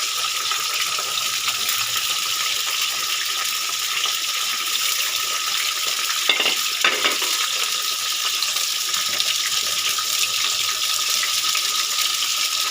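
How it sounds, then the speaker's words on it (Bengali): Bitter gourd frying in a pan for a shukto, a steady high sizzle that holds evenly throughout, with a couple of faint clinks from the pan near the middle. "এবার আমি এটা পাঁচ মিনিট ভেজে নেব"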